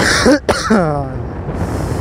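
A single harsh cough with throat clearing, followed by a short vocal sound and quiet background noise.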